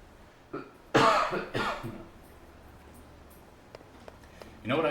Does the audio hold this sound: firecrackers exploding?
no